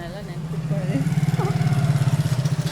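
A custom Ducati motorcycle with an Akrapovic underbelly exhaust idles nearby, its low pulsing throb steady and loud, while someone talks over the engine.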